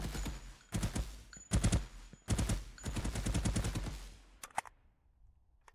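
Rapid bursts of automatic gunfire from a top-down shooter game built in Unreal Engine 5, several loud volleys of fast repeated shots separated by short pauses, then a couple of isolated single shots before the sound cuts out.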